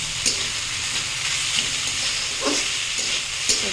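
Steady frying sizzle of banana stem in a pan, a constant crackling hiss with occasional brief stirring clatters, close and moderately loud, no voices.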